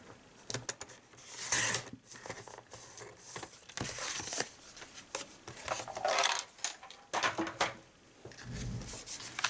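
Cardstock being cut for a gift box lid, with soft irregular rubbing and scraping strokes, close and quiet, with no voice.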